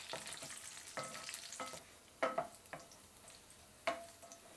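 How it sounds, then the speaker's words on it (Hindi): Cashews and raisins frying in ghee for Maharashtrian coconut rice give a faint, steady sizzle, broken by a few sharp scraping stir strokes near the end, with no voices. "इन्हें हम कलर चेंज होने तक फ्राई करेंगे"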